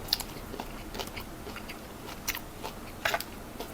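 Crunchy sun-dried sea snakehead fish chewed close to the mic, repeated crisp bites and crunches with no talking.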